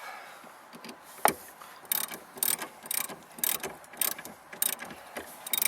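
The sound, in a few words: tightening a collar bolt on Honda Ridgeline seat pulley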